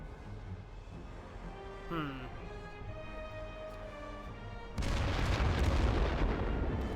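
Mortar and artillery fire in the World War I game The Great War: Western Front, a dense, loud rumbling barrage that erupts suddenly partway through and continues over quieter game music.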